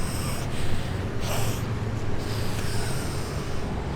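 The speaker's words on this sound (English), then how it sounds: "Take a deep breath and you're sucking your mask." Heavy breathing through a face mask, with deep, slow inhales and exhales that rasp and hiss close up, repeating in an uneven rhythm without speech.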